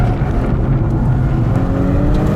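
Engine of a BMW M240i or M440i drives hard on power, a loud, close, steady throaty drone with rising pitch under acceleration and no talking.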